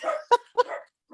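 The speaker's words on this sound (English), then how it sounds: "Excuse my dog." A dog gives a few short, close yips and barks in a quick burst, followed by a brief pause and then another bark.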